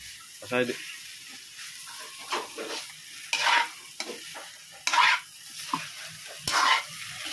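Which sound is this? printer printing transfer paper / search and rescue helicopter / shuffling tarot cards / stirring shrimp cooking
stirring shrimp cooking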